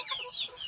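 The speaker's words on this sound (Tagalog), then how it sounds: "Ito yung mga ligaw na manok." Wild chickens on a Philippine farm give short, faint, high clucks and chirps for under a second, heard at a distance with no talking.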